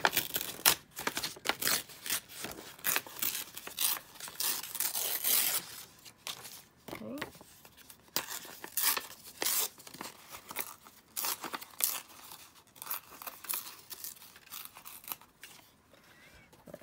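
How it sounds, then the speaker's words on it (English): Paper torn by hand around a shape for a junk journal, a long run of close, dry ripping and crinkling bursts with brief pauses, fairly quiet and alone. "I'm just going to kind of tear around this and sort of fussy tear this"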